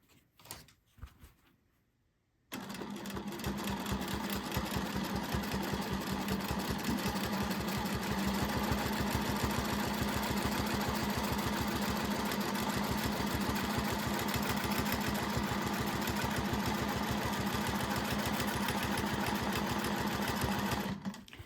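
A sewing machine stitches quilting fabric on a practice piece, running as one steady, close whir for about nineteen seconds after a brief quiet start, with no voices.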